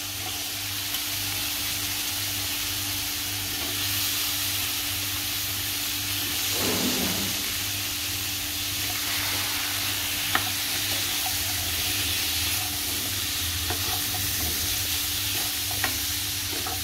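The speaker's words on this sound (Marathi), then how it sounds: "आता याच्यामध्ये आपण बटाटा घालूया। बटाटा कच्चा असल्यामुळे पहिला आपल्याला बटाटा शिजवून घ्यायला लागेल।" Raw potatoes with fenugreek leaves sizzle steadily in a pan for a dry methi batata sabzi, with close scraping and stirring strokes and occasional sharp clinks of the spoon against the pan.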